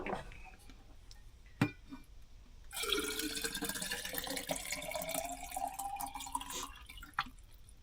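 Water pours steadily into a home filter pitcher at a camping spot, a continuous close gush with a rising filling tone that follows a few brief clicks and knocks.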